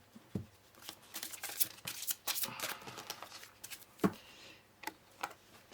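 Tarot cards being shuffled by hand, a string of crisp riffling snaps and soft slides at an irregular rhythm, fairly close and quiet, with no talking.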